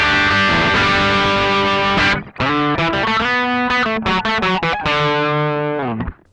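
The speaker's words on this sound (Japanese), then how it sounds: "アンプの歪みはこんな音ですね。" Electric guitar played through a distorted amp via a Koch Pedaltone preamp, chugging chords and ringing notes, loud and saturated with a brief gap near two seconds and a fade at the end.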